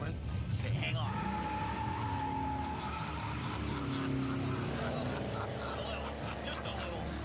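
Restored car with an LS engine idles and revs in a loud, deep rumble that swells and settles, steady and close throughout, with people talking over it.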